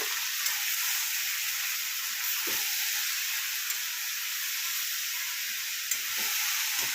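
Bottle gourd frying in a pan hisses with a constant, close sizzle, broken by a few soft stirring knocks and scrapes as it is turned over, with no speech.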